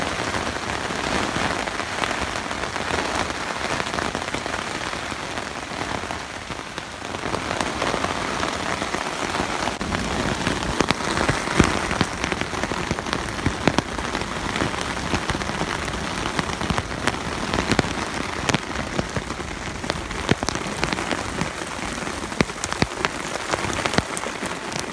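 Rain pours onto a tent and the surrounding surfaces during a camping trip in Ukraine, a dense, steady patter of drops that stays loud and even throughout, with no thunder or voices.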